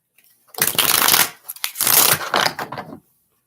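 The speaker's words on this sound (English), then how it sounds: "we're almost done shuffling, Kelly." Cards riffle and snap together in two quick shuffles, close up, with a short pause between them.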